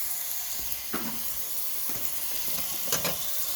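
Ground turkey sizzles in hot oil in a pan on a high flame, a soft continuous hiss broken by a few light scrapes and clinks, heard close and fairly quiet.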